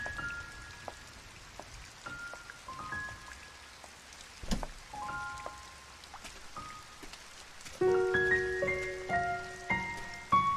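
Soft, steady rain patters throughout, with gentle sustained tones ringing over it and growing fuller near the end.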